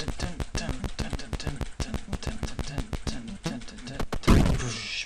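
Rapid gunfire in the video game A Cow Must Not Smoke, a dense run of evenly spaced sharp shots for about four seconds, ending in a single heavier blast that rings out.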